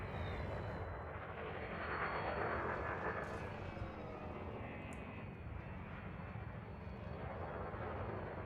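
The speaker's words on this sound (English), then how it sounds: "this is a little faster engaging our vertical thrusters" Spaceship vertical thrusters firing in the Elite Dangerous game, a steady, loud engine roar resembling an aircraft that holds constant throughout with a slight swell early on.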